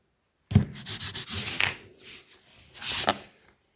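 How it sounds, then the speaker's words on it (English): A horn artifact is rubbed and polished by hand, giving close, dry scraping and rubbing strokes in uneven bursts, with a short pause midway before a final few rubs. "Polishing."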